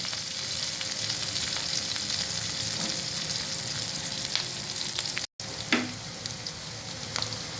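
Panch phoron spice mix with cumin and mustard seeds sputtering in hot oil, a dense and steady crackling sizzle heard close and alone. A brief dropout comes near the end, and there is no talking.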